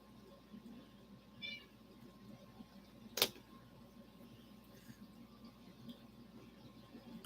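A gray cat gives one faint, short meow in a quiet room, followed a moment later by a brief sharp click against low background noise.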